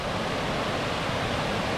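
Steady, dense rush of falling water at Cathedral Falls, a constant broadband roar without pauses or voices.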